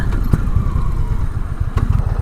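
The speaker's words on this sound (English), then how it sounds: "today I'm currently riding the 2020 Indian Motorcycle Challenger" A 2020 Indian Challenger motorcycle with its PowerPlus engine rumbles steadily while riding on the road, a loud continuous low drone with faint ticking and wind.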